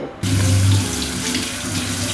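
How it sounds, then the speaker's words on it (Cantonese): A kitchen tap runs steadily into a sink as a crab is rinsed under flowing water, a loud, close, continuous splashing rush with no talk. "開著個水喉，用啲流動嘅水沖洗"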